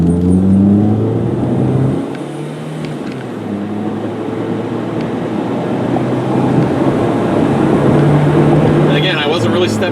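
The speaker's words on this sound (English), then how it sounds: "I wasn't really stepping on the gas that hard, but we're up to 55 miles an hour already." A green 2001 Ford Focus SE with a 2-liter engine and automatic transmission accelerates from inside the cabin, a steady engine drone rising over road noise while someone talks throughout.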